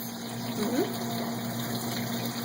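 A Maytag washing machine fills with water and detergent, a steady pump hum and gushing flow running continuously at moderate loudness, with a person's voice briefly over it.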